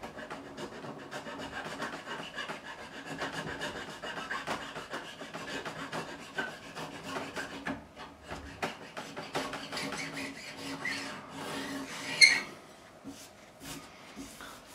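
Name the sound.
small file rolling guitar fret edges on fingerboard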